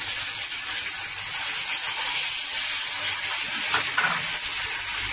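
Chili and poppy seed paste hitting hot fried onions in a pan for an egg posto curry, a steady close sizzle and hiss of frying with faint stirring scrapes near the end.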